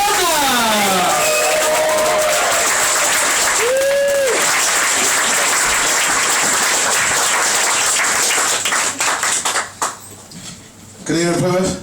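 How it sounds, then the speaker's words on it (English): A live comedy audience at the Barbican in Plymouth bursts into loud, sustained applause and cheering as a comedian is welcomed onstage, dense clapping filling the room, with a few whoops and voices over it before the clapping thins at the end. "We need to start the applause, start the clapping, start the roof, start the cheering."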